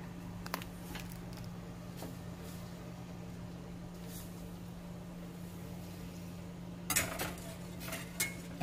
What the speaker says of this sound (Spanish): vamos a incorporar poco a poco nuestra polenta.